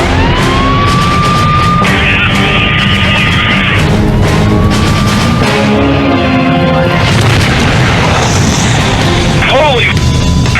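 Eight thousand gallons of propane ignite in a massive fireball near a freeway, a loud, sustained roaring blast overlaid by a dense wash of crashing noise, shouting voices and rising tonal sounds.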